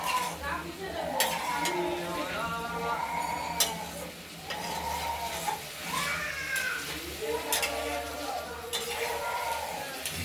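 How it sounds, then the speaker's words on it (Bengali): Prawns sautéed with spices in a pan make a low sizzle under repeated scraping and stirring strokes of a spatula against the metal, with a few sharp clinks spaced through the clip. "এবার মাছগুলো দিয়েও একটু কষিয়ে নিলাম"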